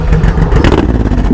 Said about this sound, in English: He's got the Cobra exhaust.